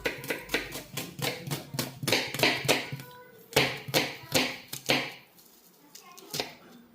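A knife chops vegetables during home cooking, giving close, crisp taps in a quick, steady rhythm for about five seconds, then a short pause and one last tap.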